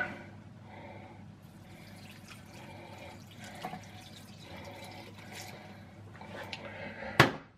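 A litre of water runs steadily into a pot, a soft continuous pour under a low hum, ending with a sharp clunk.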